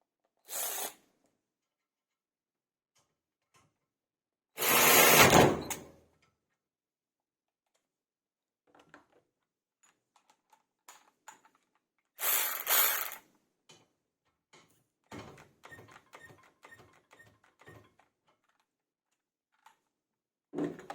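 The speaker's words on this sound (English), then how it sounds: "tightening with Parkside, then untightening with Milwaukee" Parkside PAR 12 A1 and Milwaukee M12 cordless ratchets tighten then loosen a fastener, giving short loud motor whirs separated by silence, with a run of quick mechanical ratchet clicks near the end.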